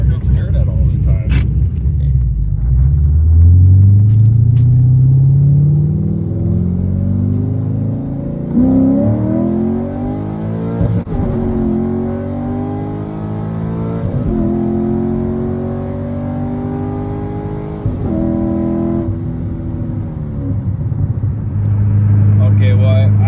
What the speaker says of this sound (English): The car does sound better